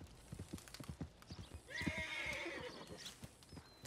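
A horse in the video game Red Dead Redemption 2 clip-clops with quick, close hoofbeats, then lets out a loud whinny partway through before the hooves continue.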